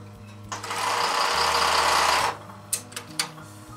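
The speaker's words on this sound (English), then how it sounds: "So if I put this on the widest stitch for zigzag," A sewing machine runs a wide zigzag satin stitch at its 4 mm maximum width for decorative quilting, a close, fast steady whir lasting under two seconds, followed by a few short mechanical clicks.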